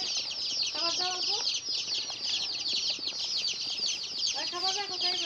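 Chickens with chicks cluck in two short bursts of rising calls, close by, over a steady high chatter of cheeping that fills the whole stretch.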